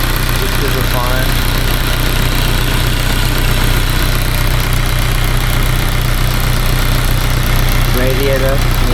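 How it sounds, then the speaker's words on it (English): A vehicle engine idles loud and steady with a constant low rumble and vibration, its injectors rattling against something throughout, while someone talks over it now and then. "What's vibrating? Rattling against something. That's injectors."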